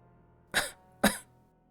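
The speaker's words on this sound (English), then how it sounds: "She covered her mouth with her hand, coughing harder and harder" A woman coughs twice in quick succession, two short harsh bursts about half a second apart, close and fairly loud with a quiet background between.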